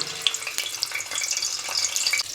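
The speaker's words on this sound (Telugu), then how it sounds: "నూనె అయితే కాగింది ఇందులో ఉల్లిపాయ ముక్కలు వేసుకున్నాము" Onion pieces sizzling as they drop into hot oil for a dried fish, tomato and drumstick curry, a steady bright crackle and hiss with scattered pops, close and continuous for the whole stretch.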